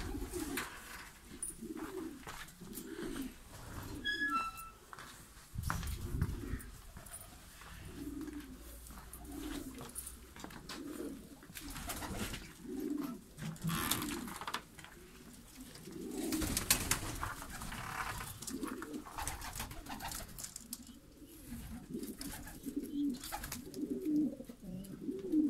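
Fancy breeding pigeons coo in soft, repeated low rolls, with several birds calling close by over a busy loft background.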